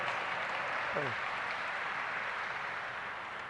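A church congregation at a televised Mass claps together, a dense, steady applause that fills the space, with a voice briefly over it.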